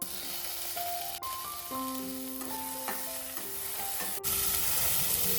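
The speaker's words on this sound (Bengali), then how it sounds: "পেঁয়াজটা একটু লাল হয়ে এলে দিয়ে দিচ্ছি টমেটো" Tomatoes hit a pan of browning onions, sparking a bright, steady sizzle that runs unbroken, joined by a few tonal scrapes and knocks from utensils, with a louder burst of frying near the end.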